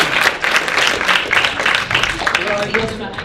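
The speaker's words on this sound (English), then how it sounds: "A big round of applause again." Audience applause fills a hall after a medical grand rounds lecture on complex persistent opioid dependence, a steady, moderately loud clatter of many hands over about three seconds, with voices mixed in.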